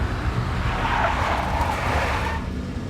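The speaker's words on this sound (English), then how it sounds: "A big black Mercedes." Big black Mercedes in the Max Payne video game, a steady, loud engine roar with tire noise running throughout, close and continuous with no voices.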